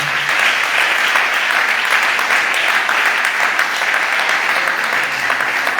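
A church congregation breaks into loud, dense applause, a sustained wash of many hands clapping together that holds steady for several seconds without a break.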